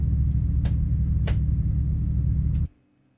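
A car engine in Assetto Corsa racing gameplay drones in a dense, steady low rumble with a few sharp shift-like blips, then cuts off abruptly near the end, leaving near silence.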